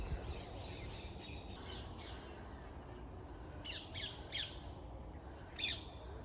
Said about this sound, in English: Oh, look at that bird up there.